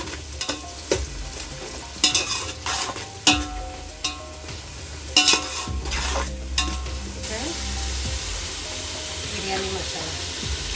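Coriander, curry leaf and green chilli paste sautéing in a pan for prawn rice, with a steady sizzle broken by repeated sharp scrapes and clinks of a spoon stirring against the metal, heard close.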